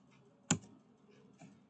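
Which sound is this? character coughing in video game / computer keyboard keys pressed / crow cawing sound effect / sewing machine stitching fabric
computer keyboard keys pressed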